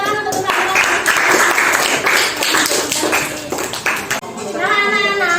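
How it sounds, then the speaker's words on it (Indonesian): Children in a classroom clap for their classmates in a brief burst of fairly close applause. A teacher's voice and children's voices run over and around the clapping. "Kita beri tepuk tangan untuk teman-teman."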